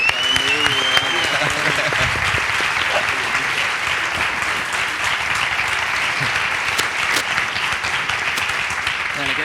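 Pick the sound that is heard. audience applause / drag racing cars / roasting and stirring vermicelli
audience applause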